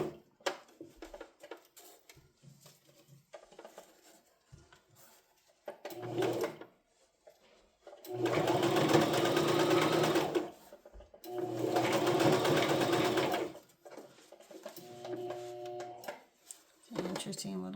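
A sewing machine stitches a small heart-shaped purse in two loud, sustained bursts, with fabric handling, clicks and brief talk in the quieter gaps between runs.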